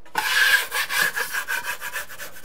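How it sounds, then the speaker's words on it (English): A drywall knife scrapes dried joint compound on a stairwell storage-area wall before the last coat, making one long rasping stroke followed by a run of shorter rhythmic scrapes, close and fairly loud with no talking. "So I'm gonna scrape this and do my last coat."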